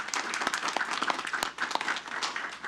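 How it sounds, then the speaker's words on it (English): Applause for veterans from a gathered audience before the Pledge of Allegiance, a brief burst of scattered clapping, moderately loud and close, with a few voices underneath. "Let's all give you guys a round of applause."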